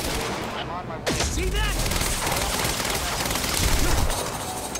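Rapid gunfire in the video game Quantum Break, dense overlapping bursts of shots that run continuously at close range, with someone talking over the action.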